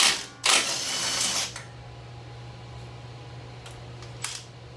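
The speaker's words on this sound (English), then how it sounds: "I'm going to take the bottom 19mm nut and bolt out first." A wrench loosens the lower 19mm nut and bolt on a Toyota 4Runner strut: one loud burst of close mechanical ratcheting for about a second, then a low steady hum with a couple of faint clicks.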